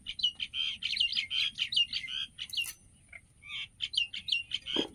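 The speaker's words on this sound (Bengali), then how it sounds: "পাখিগুলো কি বলছে সকালে?" Small birds chirp in the morning with quick bright tweets in rapid bursts, fairly close and clear, pausing briefly midway before resuming against a quiet background.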